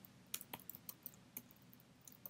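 Typing on a computer keyboard during a Ruby programming tutorial, a quiet irregular run of sharp key clicks, close and faint, with no talking.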